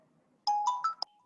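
Short electronic phone ringtone announcing an incoming call, a quick melodic run of four bright beeps, clear and close against a near-silent background.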